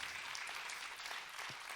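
Audience applause fills a short stretch at a launch evening for an employment and disability barometer, a dense, steady clatter of many hands clapping together at close range with no pause.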